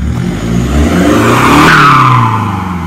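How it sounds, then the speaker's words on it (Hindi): A tuned Hyundai Creta with a straight-pipe exhaust and open air filter revs hard, a loud, close engine roar that rises in pitch and holds steady, with no talk over it. "तो आपने भाई सुन के देख लिया भाई कितना तगड़ा एग्जॉस्ट भाई ने सिस्टम लगवा रखा है इसमें"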